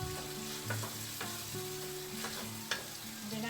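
Shell pasta is stirred in a sizzling pan, a steady frying crackle broken by several scraping strokes of the utensil, close up with no talking.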